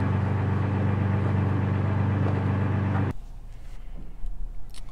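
Deep exhaust drone of a 5th-gen Toyota TRD 4Runner with a Borla S-Type cat-back exhaust, loud and steady, then cutting off abruptly to a quieter low rumble with small knocks.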